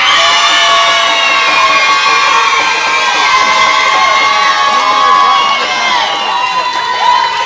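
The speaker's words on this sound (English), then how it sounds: "If you reckon contestant number 2 did it the best, scream now." Audience at a live show screaming and cheering loudly for contestant number two, a dense sustained wall of high-pitched shrieks and whoops from a crowd that includes children, close and continuous throughout.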